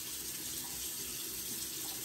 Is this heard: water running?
yes